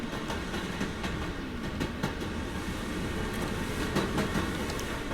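A train in a video game, JailBreak, rumbles steadily along with rhythmic clickety-clack of wheels over rail joints, a continuous close mechanical roar with no voices.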